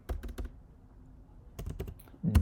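Code is typed on a computer keyboard in quick close clusters of keystrokes, a short pause, then another flurry ending in a heavier thump.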